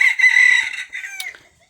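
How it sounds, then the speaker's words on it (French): Retired three-year-old laying hens vocalize close by, a loud harmonic crowing-like call with clucking breaking off, dense for about a second and then trailing into quiet. "Ce sont des poules de réforme qui ont 3 ans"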